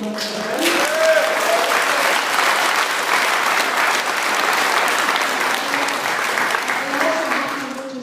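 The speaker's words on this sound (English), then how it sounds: "I think that must be the largest round of applause that Honoree's ever had." A room full of people at a political activists' meeting in Argyll breaks into loud, sustained applause. The clapping stays dense and steady throughout, with a few voices faintly mixed in.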